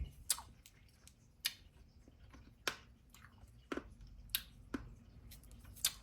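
Someone chewing a chalky, Tums-like candy from a treat box, giving several sharp close crunches and clicks spaced irregularly over quiet room tone.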